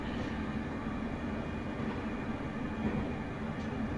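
A Class 385 electric train on the Glasgow Queen Street to Alloa route in Train Simulator Classic gains speed, a continuous, moderately quiet rolling rumble with a soft motor hum and no speech.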